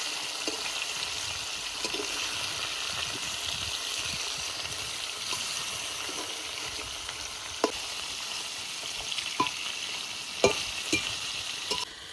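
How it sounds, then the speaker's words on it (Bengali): Lightly fried hilsa fish in mustard paste sizzles in a pan as it is gently stirred, a steady close frying hiss with occasional soft spoon knocks. "এবার হালকা হাতে নাড়াচাড়া দেবো"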